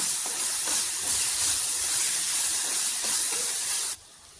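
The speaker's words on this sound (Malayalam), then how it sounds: "ഒരു മൺചട്ടിയിൽ വെളിച്ചെണ്ണ ഒഴിച്ച് കൊച്ചുള്ളി വഴറ്റുക." Shallots, crushed ginger and garlic sautéing in coconut oil in a clay pot give a steady, loud broadband hiss and sizzle that runs continuously, then drops away sharply near the end.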